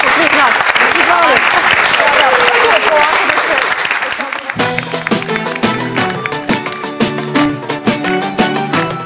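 A studio audience on a television talk show gives loud, sustained applause for a singer, then it gives way halfway through to music.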